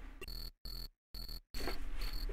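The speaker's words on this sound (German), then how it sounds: "Hört ihr das Zirpen der Grillen?" Crickets chirp in the Maniac Mansion video game, a shrill, high electronic trill in repeated bursts broken by brief silences, then continuing steadily, close and clear with no talking.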